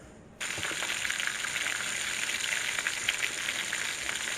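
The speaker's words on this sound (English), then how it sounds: "then we're going to drop them in the frying pan." Breaded chicken cordon bleu drops into hot oil in a frying pan and bursts into a loud, steady sizzle that continues evenly without a break, close up and with no voices.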